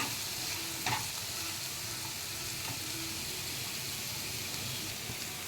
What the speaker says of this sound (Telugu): ముందుగా ఆయిల్ వేసి ఆవాల జీలకర్ర వేశాను ఆనియన్ కూడా వేశాను ఇవి మంచిగా ఫ్రై అవ్వాలి